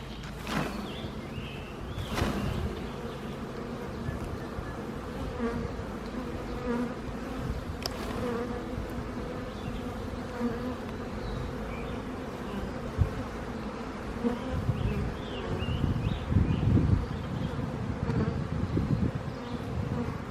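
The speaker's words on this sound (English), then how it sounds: "take this frame and give it one good shake into the hive box" Honey bees buzz in a dense, continuous swarm close by as a brood frame is shaken into a hive box, with a couple of sharp knocks near the start and rustling and handling noises later.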